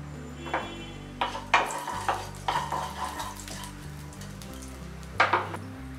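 Cumin seeds sizzling in hot oil in a pan while preparing a low-oil sooji snack, with a steady crackling sizzle broken by a few sharp stirring clatters of a spoon against the pan, close and moderately loud, with no talk.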